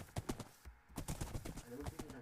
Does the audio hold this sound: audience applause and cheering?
no